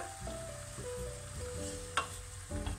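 Leftovers from a pierrade stirred with sauce in a hot pan on lowered heat give a steady close sizzle, with occasional scraping clinks from the utensil and a faint tonal hum behind.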